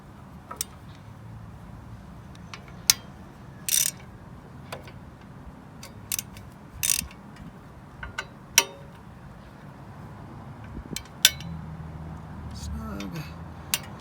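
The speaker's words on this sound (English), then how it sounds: "now just gotta torque these down a little bit" Wrench tightening thin bolts on a belt guard being installed on an Indian Scout motorcycle: scattered sharp metallic ticks and clinks at irregular intervals over a quiet background, with a brief low scrape near the end.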